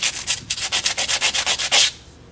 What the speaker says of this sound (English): You can use sandpaper.